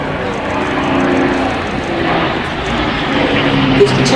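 Hawker Nimrod navalised biplane fighter with a propeller engine flying at an air show, a steady, moderately loud drone with gentle swells, under a commentator talking over a public address.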